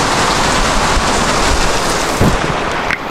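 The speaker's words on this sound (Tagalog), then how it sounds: "Ang lakas ng ulan." Heavy rain pours down steadily in a dense, continuous roar, with a brief low rumble partway through.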